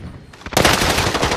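Hostile automatic gunfire in Call of Duty Warzone erupts after a brief quieter lead-in, a loud rapid stream of shots continuing to the end.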